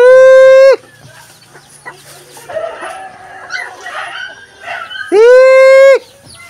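Chickens cluck close by, with a loud rooster-like call at the start and again near the end, and softer clucking and scratching in between.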